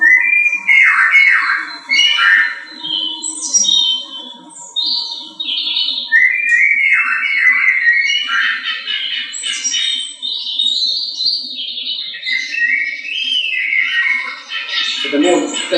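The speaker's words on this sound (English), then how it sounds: "the louder the bird noises become" Artificial bird noises generated from electricity use in a student experiment, a busy stream of close chirps, squawks and whistles layered over a faint low hum, continuous and fairly loud throughout.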